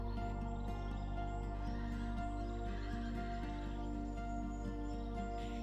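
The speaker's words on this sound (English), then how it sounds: "These mountains are home to America's most famous wild horses." Wild mustangs in the Utah mountains, with whinnying and neighing horse calls rising over a steady low background drone and faint bird chirps, heard continuously and fairly distant.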